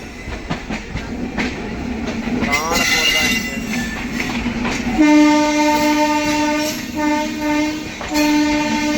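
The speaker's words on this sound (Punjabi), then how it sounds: "ਅੱਗੋਂ ਟ੍ਰੇਨ ਆਉਂਦੀ ਹੈ" A Tejas Express train rumbles closer and then sounds its horn in a long, loud, sustained blast, with people talking over the approach.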